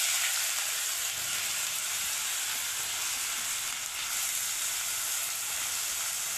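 Chopped onion hits very hot oil with bloomed cumin and sizzles and fries in a bright, steady hiss. The sizzle holds loud and constant for several seconds, with a faint stir partway through.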